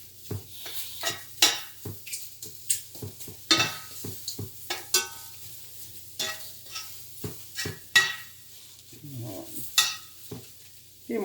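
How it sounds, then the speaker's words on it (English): Peppers and onions roast in a hot pan, with a soft background sizzle broken by frequent sharp scrapes and clacks as a utensil flips and stirs them close by. "We want to make sure they get roasted off too."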